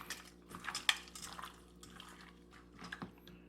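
Spare ribs squish and clink faintly in a bowl as they are mixed with dark soy sauce, wet and soft sounds with occasional light taps against the bowl.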